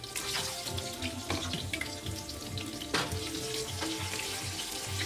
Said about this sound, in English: now we're gonna add the potato, the small cubes, 1 large potato